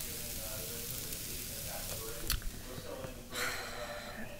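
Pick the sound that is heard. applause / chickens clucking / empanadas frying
empanadas frying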